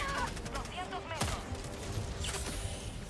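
Rapid bursts of gunfire from an unseen enemy in the Helldivers 2 video game crack in quick succession, mixed with other game effects at moderate loudness.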